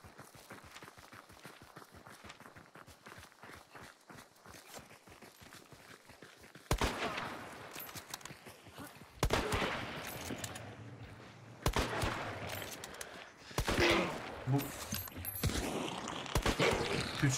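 Sharp, loud gunshots from a Mosin rifle in the game Hunt: Showdown fire one at a time with pauses between them, preceded by a stretch of rapid clicking and mechanical rattling.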